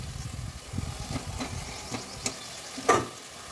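Potatoes fry in spiced oil, a masala cooked down until the oil separates, for a Sunday breakfast dish. A soft sizzle runs beneath scattered spoon scrapes and a sharper clatter near the end, with no talking.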